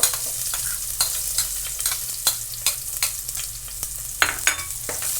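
Onions sizzling in a pan for rooster chicken adobo in coconut milk, with a steady frying hiss and repeated sharp spoon-and-pan scrapes and taps at an uneven rhythm, close and fairly loud, with no talking.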